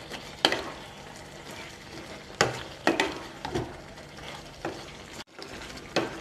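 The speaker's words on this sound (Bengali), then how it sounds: "পোস্ত বাটা দিয়ে দেব। মিশিয়ে নেব ভালোভাবে।" A spoon stirs mixed vegetables for Bengali shukto just after poppy seed paste goes into the pan, giving irregular scraping knocks against the pan over a soft, steady sizzle, close up and without talk.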